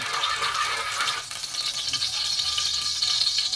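Cooking oil heating in a pan for igado, giving off a steady, crackling sizzle with bright hiss that holds throughout at moderate loudness.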